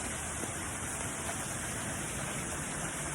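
Steady outdoor rain falls as an even, unbroken hiss that fills the whole stretch at a moderate level, with no voices over it.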